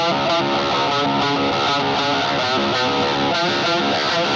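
A heavily distorted electric guitar through a cranked-up Marshall amp and a wah pedal plays a loud, steady rhythmic riff with a swept, vocal-like wah tone.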